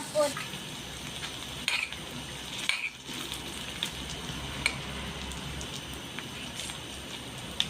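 Ginger being sautéed in a pan with a soft, steady sizzle, punctuated by occasional metallic clinks and scrapes of a utensil against the pan, fairly close and quiet.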